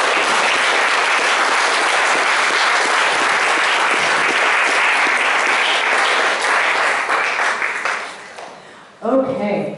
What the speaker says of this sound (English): So, give my kids a round of applause,